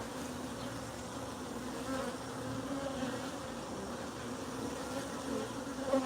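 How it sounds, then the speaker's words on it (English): A dense, steady buzz of many agitated wild bees from an opened hive at night during honey extraction fills the air continuously, droning at a constant level with occasional louder individual passes close by. "Bees are definitely not happy tonight."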